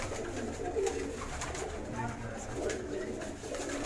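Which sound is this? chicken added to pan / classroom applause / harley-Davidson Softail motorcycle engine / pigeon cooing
pigeon cooing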